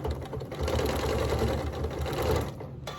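A sewing machine with a walking foot stitches quilt-as-you-go sashing joining T-shirt blocks, with white thread. It makes a close, steady, fast mechanical whir that runs evenly, then slows and stops near the end.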